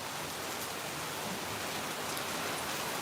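Rain falling steadily in Phnom Penh during the rainy season, a soft, even hiss of drops on surfaces, fairly quiet and continuous with no voices.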